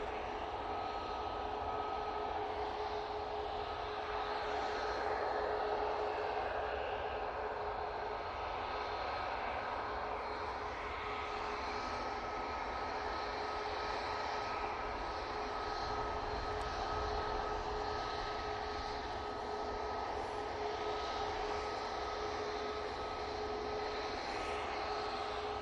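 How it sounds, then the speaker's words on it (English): Air Canada airliner on short final for landing at Manchester Airport, a steady broad jet engine roar that holds at a constant level throughout, with a faint whine running through it and no voices. "Air Canada is on short final."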